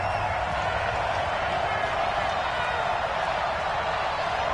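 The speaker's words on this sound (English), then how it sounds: "this crowd gets up making some noise" A stadium crowd in a PS4 American football video game keeps up a continuous, even roar of noise that holds at the same level from start to finish.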